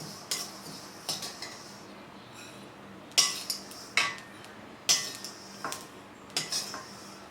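A spoon scrapes and clinks against a pan while scooping out roasted black sesame seeds, sharp metallic taps coming in small irregular bursts, close and clear with no talking.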